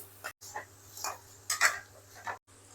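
Chicken fry being stirred with chicken masala in a pan, with a spatula scraping and clinking against the metal in short irregular strokes over a low steady hum.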